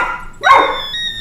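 A dog barks once, loud and close, a sharp yelp-like burst rising out of a steady background hum, with a high whine ringing on afterward.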